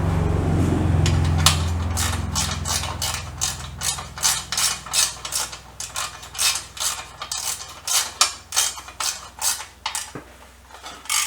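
Ratchet wrench clicking steadily as bolts on a BSA B50T motorcycle are tightened, a close, crisp rapid ratcheting heard in repeated bursts without speech.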